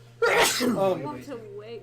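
A loud, close sneeze bursts out at once from a player at a tabletop role-playing session, followed by brief talk.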